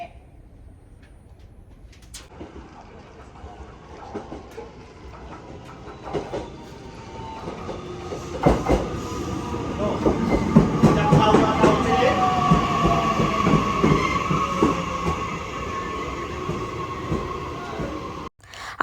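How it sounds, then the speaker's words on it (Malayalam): A train pulls into a station in Japan. Its rumble and wheel clatter swell gradually and stay steady, with brakes squealing as it slows, heard close on the platform. "അപ്പോൾ അങ്ങനെ നമ്മുടെ ട്രെയിൻ വന്നിരിക്കുകയാണ് കേട്ടോ"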